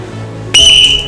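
A sharp, piercing whistle blast begins abruptly after a quiet start and holds loud and steady close by, like a bus conductor's whistle signal.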